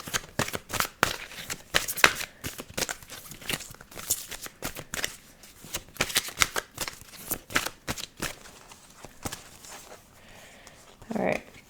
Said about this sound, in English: Let me just pull another of these cards for this year.